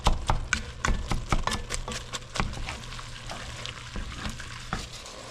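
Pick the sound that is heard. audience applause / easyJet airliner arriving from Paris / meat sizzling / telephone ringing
meat sizzling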